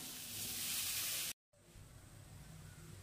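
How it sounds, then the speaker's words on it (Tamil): Meal maker soya chunks with spices sizzle loudly in a hot pan, a steady hissy fry that cuts out briefly and then resumes at a lower, softer level. "இப்போ மீல் மேக்கர் சேர்த்து வதக்கிக்கலாம்"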